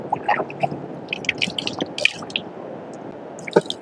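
Water scooped in cupped hands during ablution makes soft splashes, drips and wet squishing sounds, close and intermittent, with a louder splash near the end.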